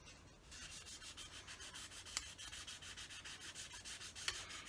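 Sandpaper works a wooden part of a vintage Fokker Dr1 model aircraft in quick, even back-and-forth strokes, a faint close rasping rhythm with a couple of small knocks and no talk.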